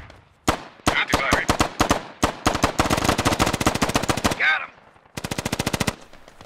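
Gunfire in the video game Squad: loud, close rapid bursts of automatic fire with short gaps between volleys, then a final fast sustained burst.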